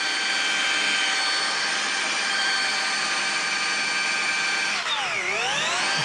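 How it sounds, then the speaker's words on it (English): A car polisher whines loudly and steadily during paint correction on heavily swirled, scratched paint, with a sudden dip in pitch near the end as the trigger is eased off, then spinning back up. "might see me come off the trigger there, it's just to slow it down so you're not getting the torque of the polisher going over an edge"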